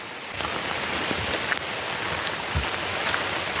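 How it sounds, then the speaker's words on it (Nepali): Rain falls steadily outdoors while people walk through a village. The patter makes a dense, even hiss throughout, with occasional brief thumps of footsteps or drops. "झरीझरीमा हामी यस्तरी हिँडिरहेछौँ"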